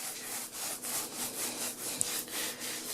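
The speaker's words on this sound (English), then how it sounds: "So this is me rolling the screen on." A paint roller coats a high-gain projection screen in steady back-and-forth strokes, a rhythmic rasping rub repeating about every half second, close and fairly loud with no talk.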